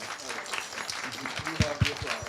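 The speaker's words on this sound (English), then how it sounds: "We have the applause, yeah." Audience applause at a talk on Armistead Maupin's Tales of the City, a short burst of clapping mixed with murmuring and voices over it, moderately loud and close.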